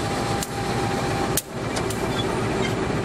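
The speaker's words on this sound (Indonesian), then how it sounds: "seperti ini kereta api Joglo-Semarkerto yang menunggu disilang oleh kereta api Brantas" A Joglosemarkerto passenger train hauled by a CC 201 diesel locomotive idles at Purwokerto station, waiting to be crossed by the Brantas train, giving a steady loud engine and air-conditioning drone with a faint tone and a couple of brief clanks.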